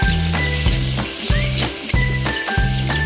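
Chicken for pancit miki sautéing in a pan over a wood fire, with loud steady sizzling and repeated rhythmic stirring strokes up close.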